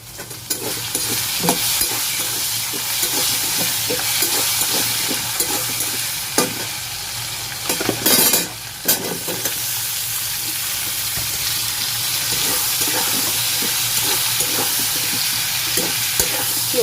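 Vegetable curry of papaya, stalks, soaked jackfruit seeds, pumpkin and potato being stir-fried in a home kitchen, a steady close sizzle with repeated scraping stirs and brief clinks throughout, with no talk.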